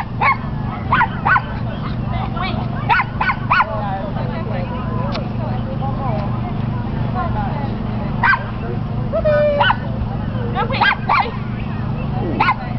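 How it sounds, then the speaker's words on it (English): A dog at a UKA Thatcham agility event yaps in repeated sharp yips and barks with an occasional whimper, and a person talks nearby over a low background hum. "Too much yapping."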